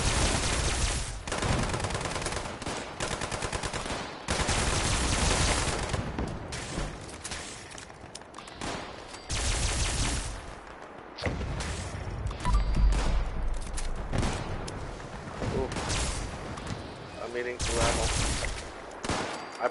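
In Fallout 76, the player's gun fires long, dense volleys that keep going almost without pause, each burst loud and close, with brief gaps between the strings of shots.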